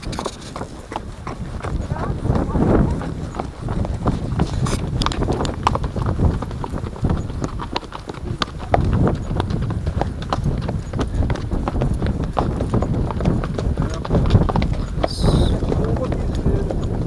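A ridden mare's hooves clip-clop in a steady, continuous rhythm at close range on an outing with friends, while riders talk over the hoofbeats.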